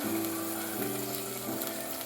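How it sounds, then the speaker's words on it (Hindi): Yogurt and meat masala frying in a clay pot, a steady low sizzle with faint scraping and stirring, close and continuous with no talk. "अच्छा से भुने तो इसमें 3 टेबलस्पून योगर्ट ऐड कर दें और इसको अच्छे तरीके से भून लें।"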